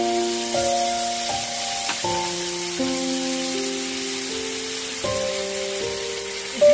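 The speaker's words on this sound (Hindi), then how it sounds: "अब इसमें हम टमाटर प्यूरी डालेंगे जो हमने पहले से ही आपको सामग्री में बता दी है।" Tomato puree poured into a pan of browned cumin seeds for club kachori, giving a steady, close sizzle and frying hiss that persists throughout, with soft stirring under a background music tone.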